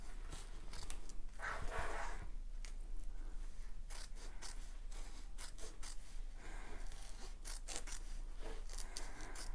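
Sewing scissors held sideways at an angle snip through the foam of a getaway bag, a series of short, close crisp cuts and rustles scattered across the quiet room with no talking.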